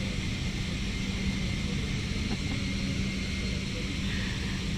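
Steady, even cabin roar aboard an airliner in flight to Abidjan, a constant broad rush with a low drone underneath and no breaks, with no talk.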